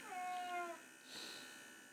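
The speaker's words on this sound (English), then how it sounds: "black cats are vocal" A black cat meows indoors, one clear drawn-out meow followed by a softer, breathier second call, close and alone with no voices over it.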